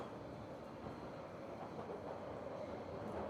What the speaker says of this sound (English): Another express roaring through, and get to see a stopping service coming in on the far side